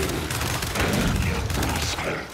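Explosions and gunfire in the Gears 5 video game arrive as a dense, loud burst of booming blasts and rapid shots, with a player's excited voice heard faintly amid the noise.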